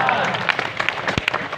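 Short burst of scattered audience clapping at an Islamic religious lecture, sharp individual claps mixed with a thump, brief and fairly close.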